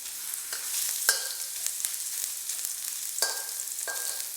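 Ginger frying gently in oil over low heat for fried fish with soy sauce, a steady soft sizzle with occasional sharper clicks and pops as the pieces are stirred around the pan.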